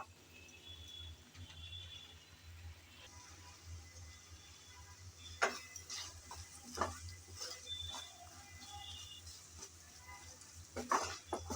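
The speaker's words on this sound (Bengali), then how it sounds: "নেড়ে চেড়ে আমি ভালোভাবে মশলা কষিয়ে নিলাম" Masala and tomato being stirred and fried in a pan, with quiet sizzling under intermittent scraping and clinking strokes of a utensil, a faint low hum beneath.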